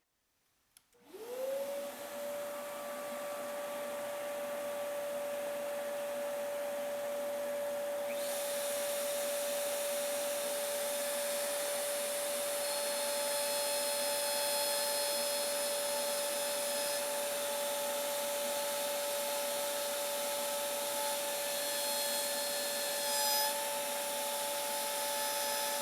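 Dust collection running for a woodworking power tool cut, a loud sustained whine with a steady tonal hum that starts abruptly and holds at a constant level for the rest of the clip.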